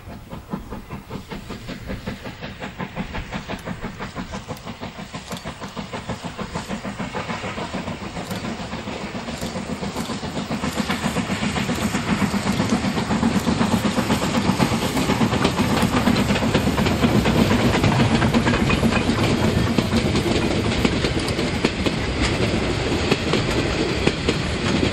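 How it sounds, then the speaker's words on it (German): A steam train pulls out towards Talmühle on a narrow-gauge line, a loud chuffing exhaust beat that builds steadily over the steam hiss and rail noise. "Nach dem Einsammeln der Fahrgäste machte sich dann auch der zweite Zug auf den Weg nach Talmühle."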